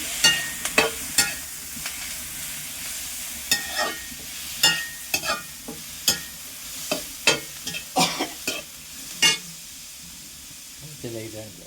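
Onions and green chilies with coriander, turmeric and chili powder frying in a pan, with repeated sharp scraping stirs over a steady sizzle, close and fairly loud.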